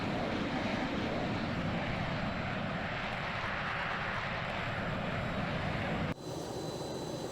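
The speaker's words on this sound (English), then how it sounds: "Sound of the plane does not replicate well through the fuselage or when you're in the cockpit." Loud, steady roar of Boeing B-52 Stratofortress jet engines in the Microsoft Flight Simulator 2020 video game, a continuous broadband drone that drops slightly in level near the end.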